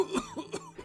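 A woman gives a short burst of three or four quick coughs, close and fairly soft, with no other sound around it.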